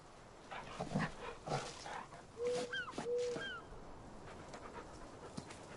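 A puppy in the video game Farming Simulator 19 whimpers in a few short, high, rising whines. Softer sniffs and rustles sit under a low background hum between them.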